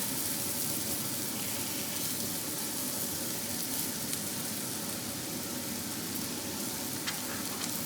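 Singing hinny cakes fry in shortening on a hot griddle, giving a steady, close, dense sizzle with fine crackles throughout and no talking.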